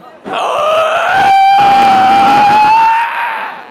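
A person in a pocong costume lets out one loud, piercing scream up close. It holds for about three seconds, with a brief break partway through, and no other sound competes with it.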